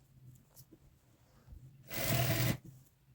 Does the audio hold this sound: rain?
no